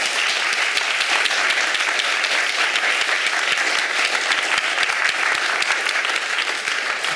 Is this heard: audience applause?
yes